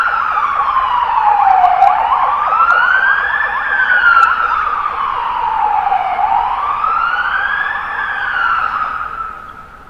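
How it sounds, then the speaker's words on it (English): Loud wailing police and ambulance sirens rise and fall in slow sweeps, continuous and close, with faint road noise beneath. "The police and the ambulance arrive immediately."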